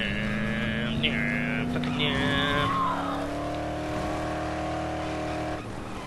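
A car is driven in the Dead Island video game, its engine droning steadily with a rising pitch across the whole stretch, with people talking over it.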